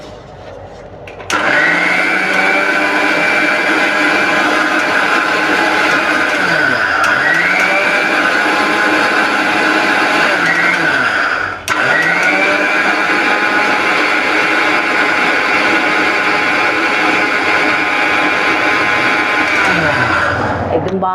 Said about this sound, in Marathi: आता पुन्हा हे वाटून घ्यायचं बघा